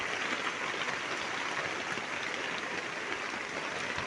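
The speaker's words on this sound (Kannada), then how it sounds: "ನಮ್ಮೂರಲ್ಲ ಮಳೆ ಬೀಳ್ತಾ ಇದೆ" Steady rain falls in a village, a soft continuous hiss of drops without pause.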